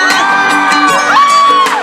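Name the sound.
crowd screaming and cheering at beach concert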